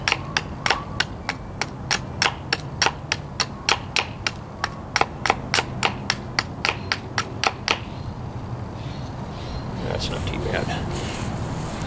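Sharp, regular knocks of a blade chopping and whittling an oak bow drill spindle, about twenty evenly spaced hits, then quieter scraping. Close and fairly loud, with no speech.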